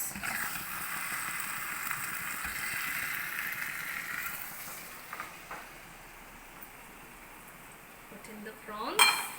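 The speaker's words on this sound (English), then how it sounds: "Put in the prawns." Prawns go into a curry pan and are stirred, metal utensils scraping and clinking over a soft sizzle, fading quieter midway before a louder clatter at the end.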